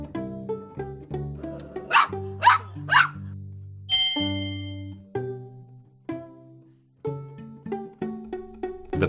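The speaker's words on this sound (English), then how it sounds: "Tap the puppy to hear it bark." A toy puppy gives a few short, bright barks among ringing chime-like electronic tones that play throughout, a cheerful sound effect from a children's read-along story about puppies.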